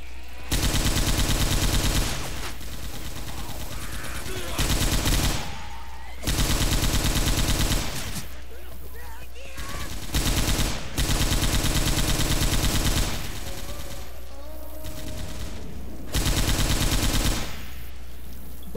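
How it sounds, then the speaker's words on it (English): M60 machine gun fire in Left 4 Dead 2 on the Hard Rain campaign, long loud sustained bursts repeated about six times with short quieter gaps between them, close and dominant. "Stop shooting me."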